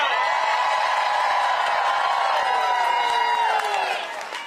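Outdoor crowd of federal agency employees cheering and whooping at a protest rally, a loud sustained roar of voices for several seconds that fades toward the end.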